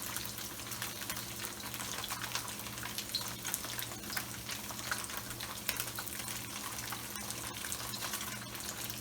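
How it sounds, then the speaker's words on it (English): Tofu deep frying in oil on high heat, a steady soft bubbling and sizzling hiss that runs evenly throughout at low level with no talking. "we're just gonna let it deep fry for a minute or two"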